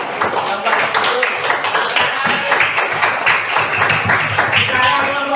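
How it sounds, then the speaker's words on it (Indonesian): Classroom applause for a group of students, a burst of many hands clapping in quick uneven rhythm, close and fairly loud, with voices talking over it. "tepuk tangan untuk kelompok 3"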